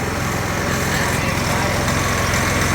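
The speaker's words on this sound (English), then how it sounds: "You get all that noise that the actual engine itself makes, not the exhaust. Like the rattling of the torque converter and all that stuff." Go kart engine running steadily at close range, a buzzy, rattling drone with the clatter of its torque converter, loud and unbroken throughout.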